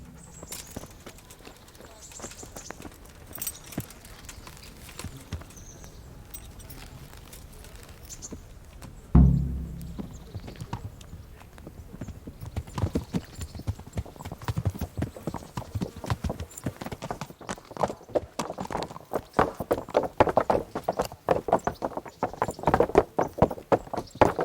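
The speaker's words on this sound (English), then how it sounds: "So, to horse!" A horse in a medieval open-world game sets off from a walk into a steady clip-clop of hooves, with one sharp thud partway through and the gait building to a brisk, continuous rhythm.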